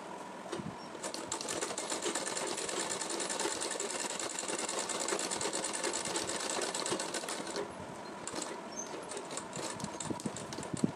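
A sewing machine stitching lace onto a kurti neckline runs steadily and continuously, a close, rapid mechanical chatter with no talking.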